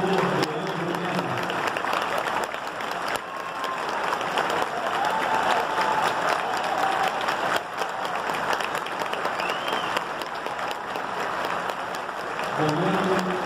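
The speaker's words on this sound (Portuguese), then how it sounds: "Solicitamos uma salva de palmas para a família do saudoso senhor Leandro Mena." A large audience claps steadily in honor of the family of the late Leandro Mena at a graduation of new municipal guards in Rio de Janeiro; the dense applause continues for the whole stretch, with a voice faintly audible at the start and end.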